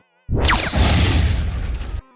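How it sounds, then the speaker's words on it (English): A laser-triggered explosion from the Splatterhouse 3 video game bursts in with a sharp attack and a falling whistle, then a loud, dense rumbling blast that holds for over a second before cutting off. "set lasers to explosion"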